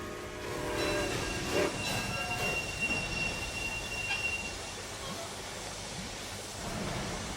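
Train arriving in the railway strategy game Railway Empire, with steady rumbling rail noise, hiss and high metallic wheel squeal throughout, fairly loud and continuous, no talk.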